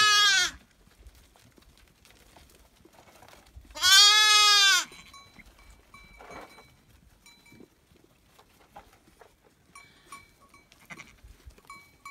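A Dorper sheep bleats twice nearby, one short cry at the start and a longer, louder one a few seconds later, followed by quiet rustling and faint clinks.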